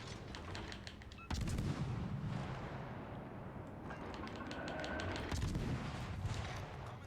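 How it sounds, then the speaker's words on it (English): Naval gunfire from warships in World of Warships Legends, a dense run of booming shots and rumbling blasts, with a sharp loud volley partway through and steady battle noise throughout. "Oh, now they're shooting."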